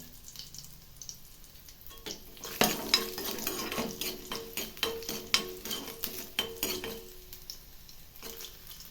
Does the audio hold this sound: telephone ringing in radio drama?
no